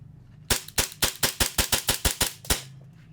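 Ten sharp gunshots from a Staccato C2 pistol fired in a quick, slightly uneven string at close range, loud and crisp with no talking.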